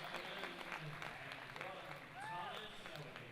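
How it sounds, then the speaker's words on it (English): A rodeo crowd applauds and cheers after a cutting horse run, a steady wash of clapping that swells briefly near the end, with voices talking over it. "Crowd enjoying that one."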